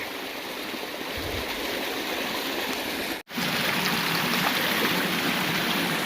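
Creek water flowing continuously behind a dam, a steady full rushing hiss with gurgling texture, close and loud, briefly cut by a split-second gap midway.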